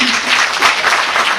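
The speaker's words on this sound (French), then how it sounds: "Et on peut les applaudir pour ça" Audience applause at a women's achievement and inspiration event, a dense, steady burst of many hands clapping close by with no voices over it.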